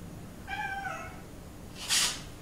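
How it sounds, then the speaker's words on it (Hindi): A single cat meow rises and falls, followed a moment later by a brief hissy burst of noise, against a quiet background. "ये बिल्ली कहाँ से आई है?"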